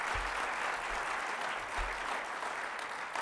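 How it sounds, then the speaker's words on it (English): A business breakfast audience at an economic development event applauds and cheers, a dense, steady wash of clapping that stays loud and uniform for a few seconds, with low thumps underneath. "let's give them a big cheer for that"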